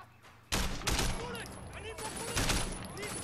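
Gunfire in the video game Sleeping Dogs bursts in suddenly as a dense fusillade of rapid shots, loud and close, with game voices and effects mixed in underneath.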